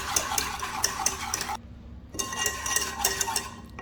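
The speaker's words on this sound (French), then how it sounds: "On va tout mélanger à froid." Orange basbousa ingredients with cornstarch and vanilla being mixed cold in a pot, quick rhythmic clicking and scraping of a whisk or spoon, close, broken by a brief pause before resuming.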